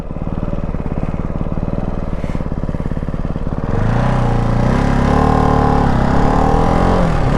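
A Ducati Hypermotard 698 Mono RVE single-cylinder motorcycle with a stock exhaust, its engine pulsing steadily while cruising, then revving up in a rising, louder drone while riding.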